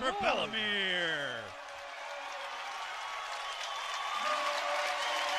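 A crowd at a wrestling match cheers. Sharp rising shouts and whistles open the sound, then a steady, loud roar fills the arena, with voices mixed in.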